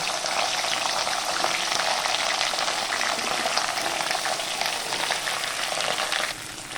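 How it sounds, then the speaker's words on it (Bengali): Okra frying in mustard oil gives a loud, steady, close-up sizzle with dense spattering crackle. It runs unbroken for several seconds and eases slightly at the very end. "প্রথমে আমি ঢ্যাঁড়সগুলো ভেজে নেব।"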